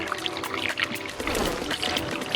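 Water poured into the radiator of a 2002 Toyota during a coolant flush, a close, gurgling splash and trickle that runs continuously for a couple of seconds with no talking.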